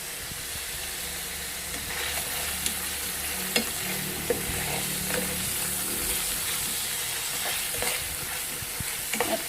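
Wagyu beef sizzles and fries steadily in a hot pan with sesame seeds, with scattered scraping clicks as it is stirred, close and continuous without talk.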